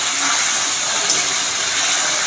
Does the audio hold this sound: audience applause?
no